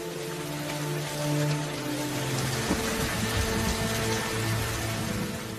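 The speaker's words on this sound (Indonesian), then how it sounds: "Di tengah hujan deras, Ozga yang terlihat bingung tak tahu harus k" Heavy rain falling in a film scene, a steady dense hiss of drops on surfaces that holds evenly throughout under low tonal background music, with no voices.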